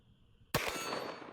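A Magnum round fired at a steel target produces a single sharp, loud crack with an immediate metallic clang that rings on briefly, heard alone with no talking.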